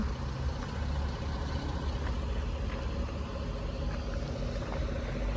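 Lorries and trucks at a road construction site produce a continuous low engine rumble and idling drone, heard from moderately close, with no one speaking.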